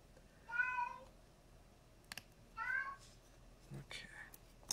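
A pet cat meows three times at a low level, short separate calls spread across a few seconds, with faint clicks and quiet whispering between them.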